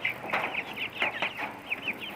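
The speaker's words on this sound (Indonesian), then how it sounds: "ini ayam putih nah ini ayam putih" A white chicken clucks repeatedly in short, quick bursts at close range in an early-morning village, with a few softer rustles between the calls.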